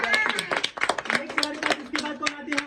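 Scattered hand clapping from an audience at an art competition prize event, close and uneven in rhythm, with voices talking over it throughout.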